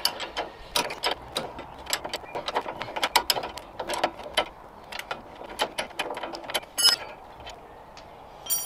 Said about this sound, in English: you need to hold this still and just undo the nut